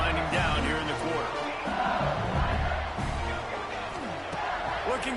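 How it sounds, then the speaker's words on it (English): Stadium crowd at a football game, on its feet yelling and screaming as a play is set to snap late in the quarter; a loud, sustained roar fills the whole stretch with voices rising and falling. "they are on their feet, yelling, screaming"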